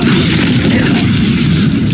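A fire-spell blast in the video game Hogwarts Legacy, a loud, sustained roaring boom with a rumbling low end that holds steady for about two seconds.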